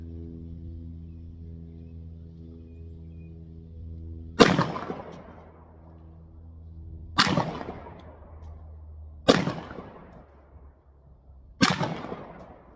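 Pistol shots from a Glock 19 or Sig 365 X Macro ring out as sharp, loud cracks, each with a quick decaying tail, spaced a couple of seconds apart over a steady low background hum.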